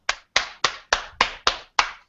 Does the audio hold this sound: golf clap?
yes